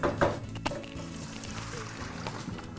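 Boiled pasta water is poured off to drain, a close splashing gush over a faint background clatter.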